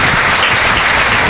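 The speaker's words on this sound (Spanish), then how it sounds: "le quiero dedicar un aplauso para ese gran esfuerzo" Loud, dense applause from an audience at a closing ceremony for job-training workshops, a continuous burst of clapping filling the short span.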